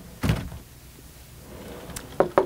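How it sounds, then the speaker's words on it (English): A sliding privacy door in a 2006 Winnebago Sightseer 34A motorhome on a Workhorse chassis rolls and thunks shut, one solid knock followed by a couple of sharper latch clicks at close range. "we have a privacy door that slides."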